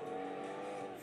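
Engine roar of a car in the racing video game FlatOut 2, a steady, loud, brief burst of revving motor with a hint of tire noise, no talking.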